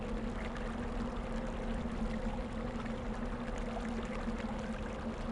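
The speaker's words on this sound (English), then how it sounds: "The stream now gives you the willies." Gentle stream flowing in Quest for Glory V: Dragon Fire, an unbroken quiet wash of water with a faint steady hum underneath, constant level throughout and no speech.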